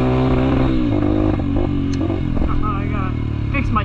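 A Honda CRF150F dirt bike engine runs loud and close, with a steady rough idle and rising revs through the whole stretch on a trail riding outing.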